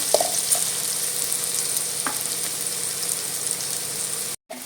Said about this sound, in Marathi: अजून कांदा जो आहे परतून घ्यायचा आहे